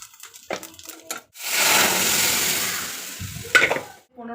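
Mustard seeds and mixed dal, masoor and urad, are dropped into hot oil in a home kitchen, bursting into a loud, dense sizzle that holds for about two seconds between quieter clatters and handling sounds.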